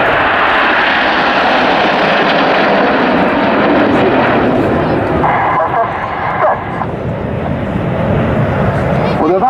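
Red Arrows jets in display formation at RAF Waddington make a loud, continuous roar that swells and fades slightly, while a commentator talks over it throughout.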